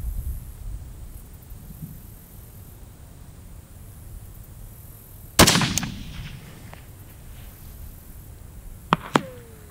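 A single long-range rifle shot fired at a target: one loud, sharp crack that rolls off into a decaying echo, with two fainter sharp cracks a few seconds later over a quiet outdoor hush.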